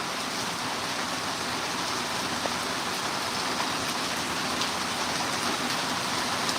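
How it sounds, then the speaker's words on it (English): Heavy rain pours down steadily outside while someone shelters under a viaduct, a dense, continuous hiss with no pauses and no talk over it. "It is raining boots out here."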